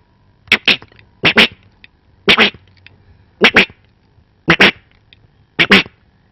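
A voice imitates a duck as part of a one-man comedy show: six short paired quacking bursts, evenly spaced and close, with quiet gaps between them.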